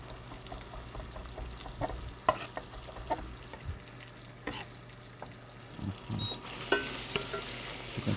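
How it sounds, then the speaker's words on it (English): Pancetta frying in a pan for carbonara, a steady close sizzle with scattered clicks and scrapes of stirring, building to a brighter, louder hiss near the end; no one speaks. "You can see the pancetta is starting to brown a little."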